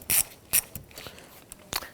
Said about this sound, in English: We'll use a 10mm socket, our extension and ratchet, to go ahead and loosen the 10mm nut here.